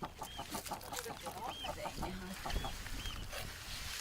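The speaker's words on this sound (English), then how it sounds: "The ducks are used to Hildegunn and aren't disturbed by her visit." Several eider ducks call in short, throaty coos and clucks over a steady outdoor background in Norway, with a low rumble running underneath.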